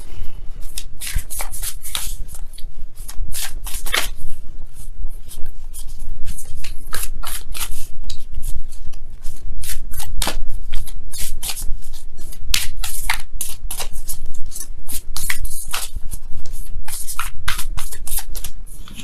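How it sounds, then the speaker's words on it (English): Rapid, continuous riffling and slapping of tarot cards being shuffled up close, in quick bursts with brief pauses. "let me go ahead and really shuffle."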